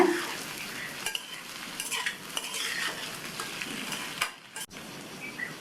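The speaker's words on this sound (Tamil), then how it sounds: "இடையில நல்லா இந்த மாதிரி பரட்டி விட்டுக்கோங்க" Potato curry masala simmers on low heat in a pan while a spoon stirs it, with soft continuous sizzling under repeated scraping and light metallic taps, close and quiet, without talk.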